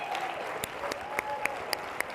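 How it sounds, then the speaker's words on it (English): Gala audience at a colorectal cancer research foundation fundraiser applauding, a moderate wash of clapping with a few sharper individual claps, fairly distant. "Round of applause for them getting together."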